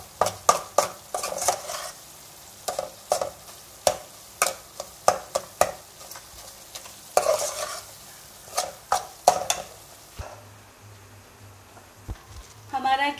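Milk cream stirred in a pan while it cooks down into desi ghee, a spoon scraping and knocking against the metal in steady repeated strokes over a low sizzle, close and clear, with a brief voice near the end.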